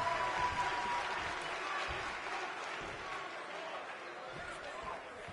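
A wrestling arena crowd at an NXT event cheers and applauds in a steady, dense roar that holds for several seconds and slowly eases, with a few dull thuds from the ring underneath.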